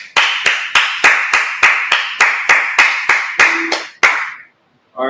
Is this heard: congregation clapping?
yes